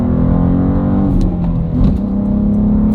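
BMW M2 G87 engine heard from inside the car while cornering hard on a turn, a loud steady drone with rising and falling revs and a brief dip mid-corner, no talking.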